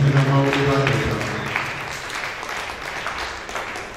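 Church congregation applauding in acclaim of the Lord, a loud burst of many hands clapping that thins out gradually, with a voice speaking over the start.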